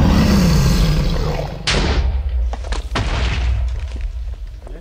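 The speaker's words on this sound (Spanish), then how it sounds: "Disfruten a TNT" TNT blowing up in a video game: loud rumbling blast with booming low end that decays into scattered debris thuds and crackles, no talk over it.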